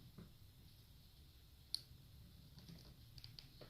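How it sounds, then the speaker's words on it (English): A Wagner Furno 300 heat gun attachment snaps into place with one sharp, close click, heard against quiet room tone with a few faint handling rustles around it. "it's a click once you get it in there"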